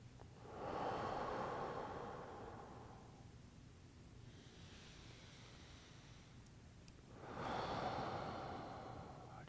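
Slow, deep breaths during a restorative yoga stretch, heard close and alone: a long exhale, a quiet pause, then a second breath swelling in and out.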